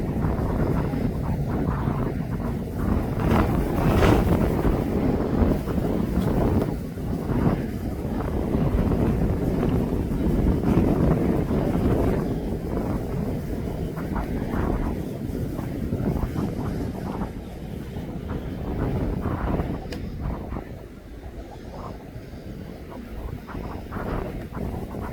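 Gusty wind buffets a camera microphone outdoors at East Midlands Airport, a loud rumbling roar that swells and eases in waves for the whole stretch, with no clear voices.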